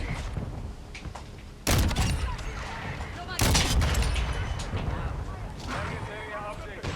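Gunfire in the Call of Duty video game, with bursts of loud, sharp shots over a continuous noisy background of game action and someone talking throughout.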